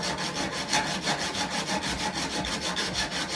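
Steel file working the edge of a card scraper laid on a mat, a continuous close, loud rasping with quick regular strokes and no talking.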